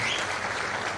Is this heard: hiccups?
no